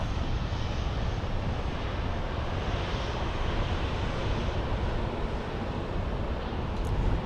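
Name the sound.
Boeing 737 airliner taking off at Portland airport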